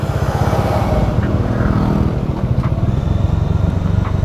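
A motorcycle rides downhill in first gear on a mountain road from Darjeeling toward Assam. The engine throbs loud and close in a steady, rapid pulse, with wind noise over it and no speech.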